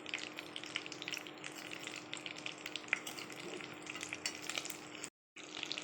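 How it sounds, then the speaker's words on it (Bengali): Breadcrumb-coated egg lollipops deep-fry in hot oil, a soft, steady bubbling sizzle with small crackles, fairly quiet and continuous apart from a brief dropout near the end. "এখন ভেজে নেব। এইভাবে ভালো করে লাল করে ভেজে নিতে হবে।"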